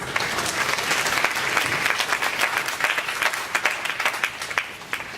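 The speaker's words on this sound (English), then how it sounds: "we'll have to give them a round of applause" Audience applause at an athletes' awards night, with many people clapping in a dense, continuous stream and individual sharp claps standing out near the end.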